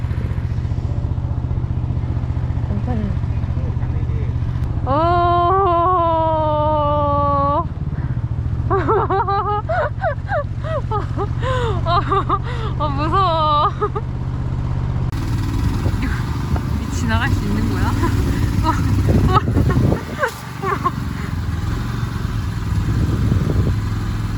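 A small boat's engine drones steadily close by on a river trip in Thailand while people talk and laugh excitedly over it, the motor hum running underneath the whole time.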